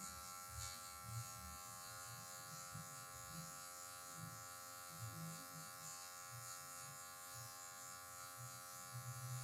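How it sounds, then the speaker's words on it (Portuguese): An electric hair clipper buzzes steadily and faintly throughout while trimming hair for a taper fade, with soft intermittent rustling and low thumps under the hum. "somente com a ponta da máquina você vem removendo"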